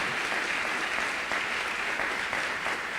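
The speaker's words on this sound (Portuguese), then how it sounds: "Você pode dar uma salva de palmas ao Senhor?" Steady, dense applause from a church congregation clapping in praise of the Lord during a sermon, a continuous even wash of hand claps with no voices standing out.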